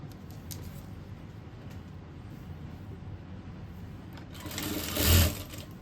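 A sewing machine stitches a seam on a pair of trousers with a steady, fast mechanical whir that swells louder near the end, heard close up without speech.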